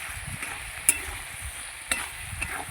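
Vegetables frying in hot oil for a fish-oil curry, a steady quiet sizzle with a few sharp spatters or utensil taps, no voices.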